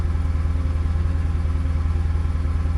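A delivery van stuck after a heavy downpour runs with its engine idling, a close, loud, steady low throb with a fast regular pulse and light clatter, no voices.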